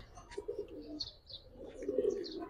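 A male Giribaz pigeon, a pied Kolshi-marked bird, coos in soft repeated low throaty rolls at close range, with a quieter stretch in the middle and a longer, louder coo toward the end.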